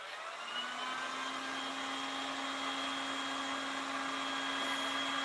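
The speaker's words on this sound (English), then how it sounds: "I'm just using the heat gun so that I can show you the finished product" A heat gun runs steadily while drying wood stain on raw wood: a continuous close whirring blower hum with an even pitch, held for the whole stretch with no pauses and no talk.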